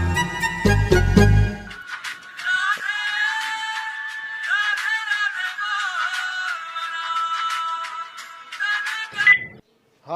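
A telephone ringtone plays a bright, warbling electronic melody of repeated tones for several seconds after a brief low thump, then cuts off abruptly; no one speaks over it.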